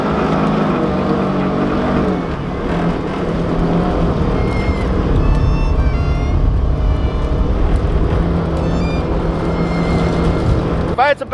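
A UTV engine revs hard and continuously as it tries to back up a snowy hill in sub-zero cold, a loud, droning roar that swells and surges near the microphone.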